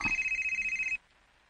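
A mobile phone's ringtone trills steadily and rapidly for about a second, then cuts off abruptly, fairly quiet with no one speaking.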